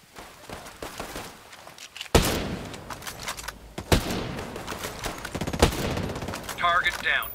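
Gunfire in Ghost Recon Breakpoint PvP, a sequence of loud shots and bursts with sharp cracks, heavier at mid-clip, over a busy game soundscape with faint footsteps and radio-style voice calls.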